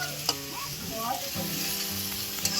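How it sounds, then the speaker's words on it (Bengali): Leafy greens frying in a pan make a close, steady sizzle with brief stirring scrapes and no talking. "এখন শাক ভাজা হচ্ছে"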